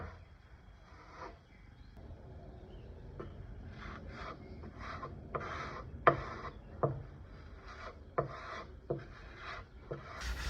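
A wooden nightstand being hand-sanded with 300 grit sandpaper, quiet rhythmic rasping strokes in repeated bursts with occasional light knocks, close and alone.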